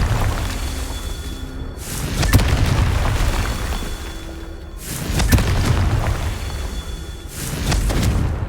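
Three loud blasting-spell explosions go off in a Harry Potter video game, each a sharp bright burst followed by a rumbling, booming tail, spaced a few seconds apart.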